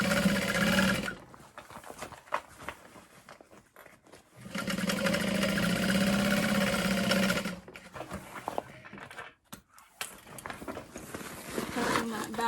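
A sewing machine runs in bursts, top stitching a tote bag, with a fast buzzing whir that stops and starts. Someone talks in between the bursts.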